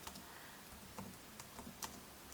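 Keystrokes on a computer keyboard while a text prompt is typed, a few faint, irregular clicks and taps close by over a quiet background with no speech.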